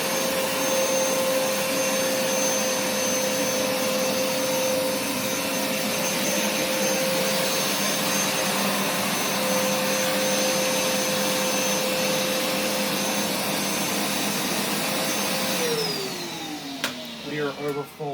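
A Hoover carpet cleaner runs with a steady, loud motor whine and whoosh, then the motor note drops and slows near the end as the full machine bogs down.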